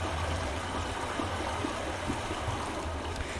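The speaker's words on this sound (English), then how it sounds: "you can tell from the sound effect that there is now water flowing through this pipe." In the video game Myst, water rushes steadily through a pipe after a faucet is turned, a continuous broad flowing hiss with a low rumble and no talk.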